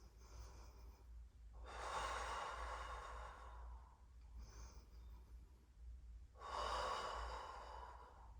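Heavy breathing during an intermediate Pilates class. Two long, forceful exhalations come several seconds apart, with softer breaths between, close and quiet over a low steady hum.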